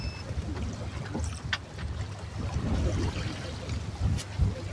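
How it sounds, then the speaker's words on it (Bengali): River waves lap steadily against a boat in winter, a low continuous wash of water and wind with occasional sharper splashes, heard alone without talk. "শীতকাল, ঢেউ কম থাকার কথা আরো, কিন্তু দেখবেন যে এখনো এই যে ঢেউ আছে"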